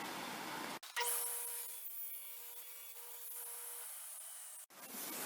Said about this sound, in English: I ripped down this front piece after putting the taper on these sides